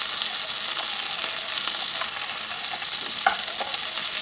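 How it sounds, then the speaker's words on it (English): Mushrooms fry loudly in a pan for a seafood fettuccine, a dense, constant sizzle close up, with faint clinks and scrapes as they are flipped. "Flip these mushrooms over as well."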